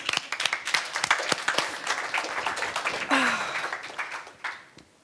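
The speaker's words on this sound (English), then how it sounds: "Let's applaud to this idea" Audience applause at a health and human rights conference, a burst of dense clapping that swells and then thins out and fades near the end, fairly close and loud.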